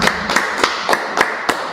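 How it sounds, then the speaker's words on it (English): Sharp hand claps ring out alone at a steady beat, roughly every third of a second, about seven crisp, close claps with no talking. "let's clap it up"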